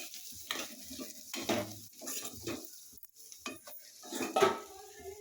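Chilli powder, coriander powder and spices being stirred in a pan for a flat bean fry, with intermittent scraping and clinking of a spoon against the pan over a soft sizzle, close and fairly quiet.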